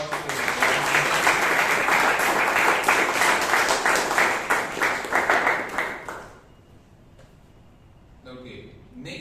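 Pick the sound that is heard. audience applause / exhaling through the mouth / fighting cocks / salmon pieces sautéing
audience applause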